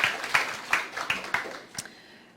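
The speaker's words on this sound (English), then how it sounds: "could we just give him a round of applause for his really exemplary leadership?" A short, sparse round of applause in a lecture hall, a handful of distinct claps at a steady rhythm that quickly thin out and fade to quiet within about two seconds.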